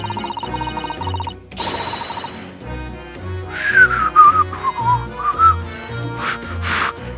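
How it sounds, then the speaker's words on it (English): Gliding, tuneful whistling from The Great Ace Attorney 2 video game rises over steady looping game music and beeping effects, running for a couple of seconds in the middle before brighter chimes follow. "Whistle!"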